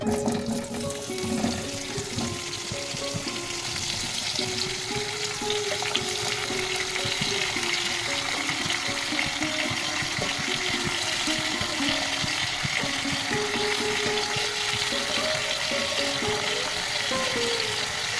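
Chopped vegetables, Malabar spinach stems for a shrimp chorchori, fry in hot oil in a wok with a loud, continuous close sizzle and occasional stirring scrapes throughout, with no voices.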